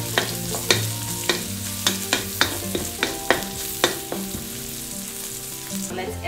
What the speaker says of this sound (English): Now, in the same wok, ginger garlic.